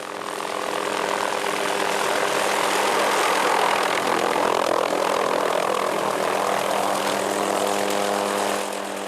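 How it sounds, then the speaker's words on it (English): A Hughes 500 helicopter, specially equipped for aerial wildlife capture over a reserve, flies overhead with a steady, loud rotor and engine roar that swells in the middle of the pass and fades toward the end. "his specially equipped Hughes 500 helicopter"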